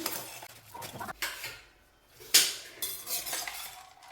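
A spoon scrapes and clinks in a bowl while girmit, a North Karnataka puffed-rice snack, is mixed, with irregular bursts of stirring and one sharp metallic clink, close and moderately loud.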